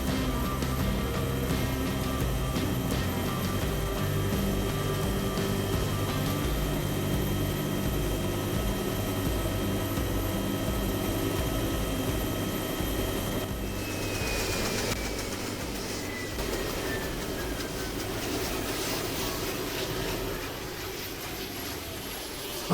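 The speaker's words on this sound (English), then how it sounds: "I've just stolen a heli from a trio." A stolen helicopter in the survival game DayZ, its engine and rotor roar holding steady and loud throughout, with a whine that slowly drifts in pitch.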